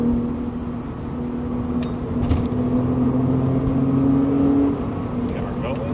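A 996-generation Porsche 911 C4S driven fast, with a steady engine drone and rising tonal whine that holds loud and close throughout, swelling slightly toward the end, with continuous road and wind noise beneath.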